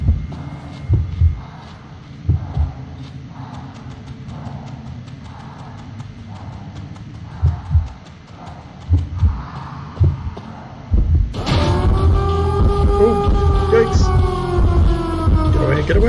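Heartbeat warning cue in the Identity V video game signalling the hunter's proximity, repeated deep thumping pulses at a steady rhythm over a humming game soundtrack, joined near the end by louder, busier game sounds.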